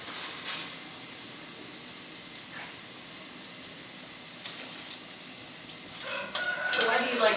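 Taco shells fry in canola oil with a faint steady sizzle, then scrape and clatter as tongs touch them near the end, the crisp clicks rising louder over the quiet bubbling.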